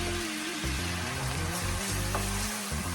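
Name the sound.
shallots and vegetables cooking in oil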